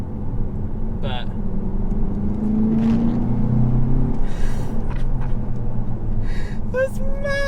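Audi TT Mk3 coupe engine droning steadily while driving, a low rumble with a brief rising rev partway through, heard from inside the cabin alongside faint cabin noises and occasional voice sounds.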